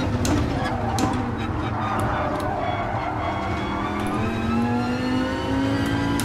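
Dodge Viper race car engine in Gran Turismo Sport, a loud sustained roar with a rising whine as it accelerates, steady and close throughout with no talking.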